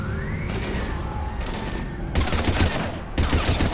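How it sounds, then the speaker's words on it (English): Gunfire from the Mass Effect 3 video game, with bursts of rapid shots and booms that grow louder and denser in the second half, layered over game music and ambience. "we're taking heavy fire"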